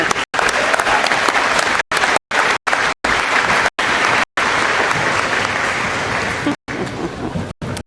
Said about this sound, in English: Let's give all of those honorees one more round of applause for their achievement